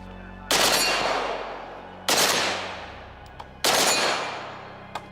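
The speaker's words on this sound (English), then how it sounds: "We can get double taps on that steel before it starts to move too much." Three loud, sharp rifle reports from a rare 5.56 AK fired at a steel target, each blast decaying over about a second, with two faint metallic pings of the steel ringing between shots.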